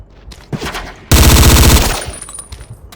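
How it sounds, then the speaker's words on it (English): A Zastava machine gun in Battlefield Yugoslavia lets off a loud, close burst of rapid automatic fire lasting under a second. Scattered quieter distant shots come before and after it. "Now we're using a Zastava machine gun."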